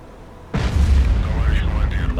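A torpedo blast strikes an aircraft carrier and sinks it in the submarine game Cold Waters, set in a 1968 Soviet campaign. A sudden loud, deep boom hits after a quiet half second, then rolls on as a sustained low rumble with creaking tones.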